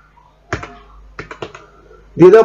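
Number typed on a computer keyboard during an online form entry, heard as a few quick, close key clicks in small bursts, followed by a voice speaking at the end.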